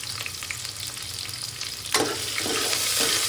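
Chopped onions hit hot oil in a pressure cooker for chicken pulao, a soft crackle rising into a loud, steady sizzle about halfway through and continuing close by without talk.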